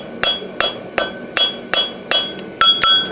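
A ball peen hammer strikes a horseshoe on the corner of an anvil, eight sharp ringing blows in an even, brisk rhythm, close and loud, the last two with a brighter metallic ring.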